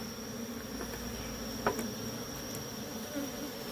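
Honeybee colony droning at an opened hive during honey harvest, a steady close insect hum with a few brief louder bumps, no talking.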